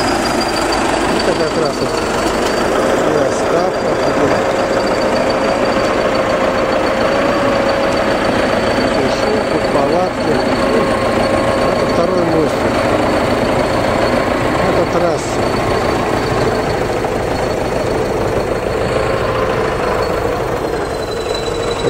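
A heavy bulldozer engine drones loudly and continuously while pushing 17 to 18 tons of iron, a steady rumble with a faint high whine, and someone talks over it.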